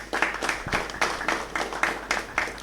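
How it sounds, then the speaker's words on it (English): Audience members clap for a panel after a discussion on intellectual property law, with distinct, fairly loud claps landing in a quick, regular rhythm of about three per second. "A round of applause for them."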